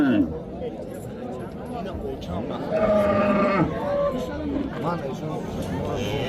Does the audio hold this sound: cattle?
yes